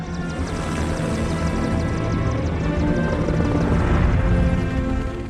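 Two search and rescue helicopters arriving at a 1972 plane crash site in the mountains, a steady, loud rotor roar and whine that holds throughout without pause.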